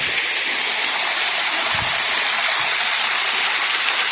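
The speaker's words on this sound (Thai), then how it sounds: "เรามาดูว่า น้ำจะออกไปอย่างไรนะครับ เป็นทางอุโมงค์น้ำออกนะครับนี้" Water rushing steadily out through the outlet tunnel of a reservoir, a loud, continuous broadband roar of flowing water with no pauses and no voices.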